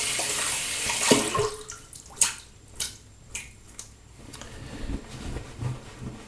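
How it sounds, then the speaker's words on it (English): Running tap water splashes over hands being rinsed at a sink, a bright hissing rush broken by several quick wet splashes and drips. "rinse my hands for a moment"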